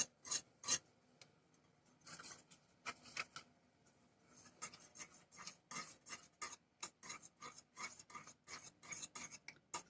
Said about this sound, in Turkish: Tekrar karıştıralım.